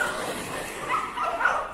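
Dogs yip and bark beside a slippery road as cyclists ride past, a few short, fairly close calls over steady outdoor noise.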